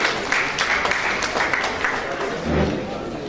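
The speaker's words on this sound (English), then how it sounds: "Please give a huge round of applause for sir" An audience at a government e-governance event claps in a steady round of applause, fairly loud and dense, with some voices faintly mixed in.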